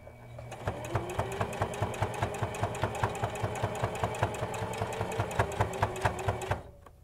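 A sewing machine stitches a fabric mask with a steady, close, rhythmic run of needle strokes and motor hum lasting several seconds, then stopping abruptly near the end.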